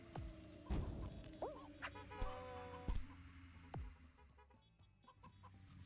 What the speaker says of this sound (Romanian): Veniră și găini pe aici.